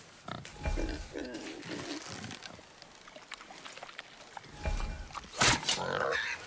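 A wild boar in the game God of War snorts and grunts in rough bursts close by, over a low background rumble and with some talking mixed in.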